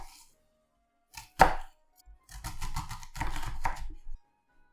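A knife chops fennel bulb on a cutting board, one sharp cut followed by a quick run of close, rhythmic chopping strokes, then quiet.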